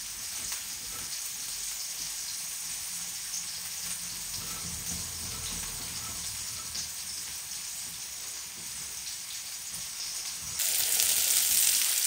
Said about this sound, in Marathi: बघा छान प्रॉन्स फ्राय होत आहे